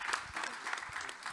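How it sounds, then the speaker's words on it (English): Audience at a student panel conference giving the mentors a round of applause, a short burst of moderate clapping heard at a distance in a hall. "the mentors deserve another big round of applause from everyone"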